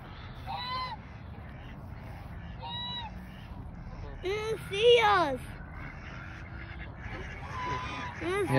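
Several white geese honk in short, nasal bursts from close by at a park, with overlapping calls and a busy outdoor background of voices and movement.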